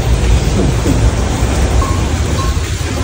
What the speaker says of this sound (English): I'm scared of lightning.